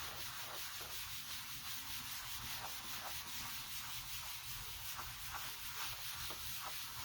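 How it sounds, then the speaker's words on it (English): Wax paste being rubbed into and off a wooden door tag by hand, a steady scratchy rubbing with quick repeated back-and-forth strokes, close and continuous with no talking. "Rub it in and then basically just rub it off."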